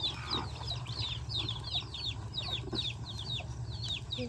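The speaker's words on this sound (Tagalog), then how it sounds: "Mga manok oh, sali-sali." Chickens cluck and call repeatedly while pecking at worms on a farm, a steady series of short close chirping clucks over a low outdoor hum.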